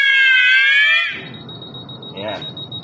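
A fire alarm panel set off by a smoke detector in a training mock-up. A loud, steady electronic alarm tone sounds for about a second, then cuts out, leaving a thin faint beep tone and some brief speech.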